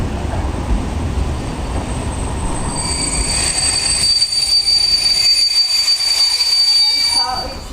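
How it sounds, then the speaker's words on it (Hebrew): A train in the Czech Republic rumbles loudly with steady wheel noise, then metallic squeals and high tones rise over it as it moves along the track. "Vlak je připraven k odjezdu."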